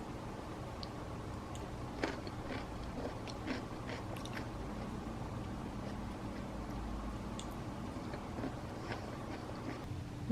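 Beet salad being eaten up close, soft intermittent crunchy bites and chewing over a low steady room hum, with no talk.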